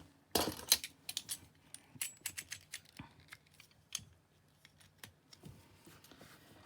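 A journal spine being cut down by hand, a string of close, sharp snips and clicks at an irregular pace, some louder than others, with quiet gaps between them and no talking.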